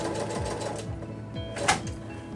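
A sewing machine stitches a decorative design onto a fabric tag, running in a steady rapid mechanical rhythm with regular needle thumps, close and clear, with a brief sharper clack near the end.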